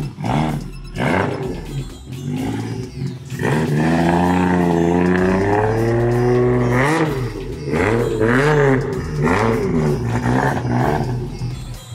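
A Mazda RX-8 with a 1000 hp JZ engine swap revs hard while drifting, with a loud, sustained roar, pitch sweeping up and down as it accelerates, close and continuous throughout.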